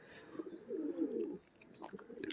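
A pigeon gives a short, low coo in a breeding loft, brief and close, rising and fading within a couple of seconds amid light background noise.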